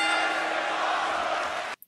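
Arena crowd at an NXT TakeOver wrestling show in Philadelphia roaring steadily during a stare-down, a dense sustained cheer that cuts off abruptly near the end.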